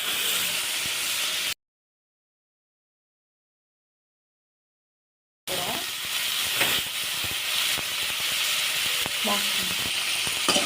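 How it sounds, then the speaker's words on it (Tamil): Loud, steady sizzling of eggplant frying in oil for brinjal gravy, with scraping stirs; the sound cuts out completely for a few seconds, then the hissing resumes. "நல்லா ஒரு 2 நிமிஷத்துக்கு வதக்கி விட்டுக்கோங்க கத்திரிக்காவை."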